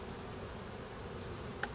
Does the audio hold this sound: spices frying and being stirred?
no